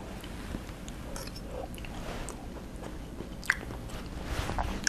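Someone chews a mouthful of Ethiopian atakilt wat, a cooked dish of cabbage and carrots, with soft, close, moist bites and quiet crunches repeating in an irregular rhythm and no talking.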